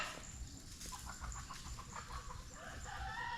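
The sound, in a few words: chickens clucking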